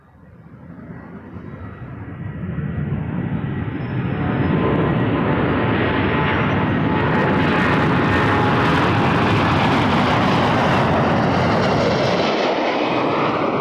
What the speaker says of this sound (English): Beautiful looking Swiss aircraft.